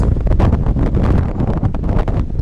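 Strong wind buffets the microphone at a desert viewpoint in Joshua Tree National Park, a loud, continuous rumbling roar with gusty surges throughout, close and filling the whole clip.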